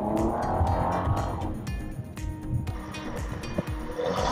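Bentley Bentayga W12 SUV with 608 PS and all-wheel drive accelerates hard, its engine note rising loud and close with a continuous surging roar.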